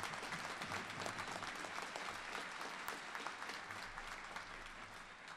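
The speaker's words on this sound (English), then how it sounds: "A round of applause for our Monterey Brass." Sustained audience applause at a winter quarter graduation ceremony honoring the Monterey Brass, a dense, steady wash of many hands clapping throughout, fairly distant and easing slightly toward the end.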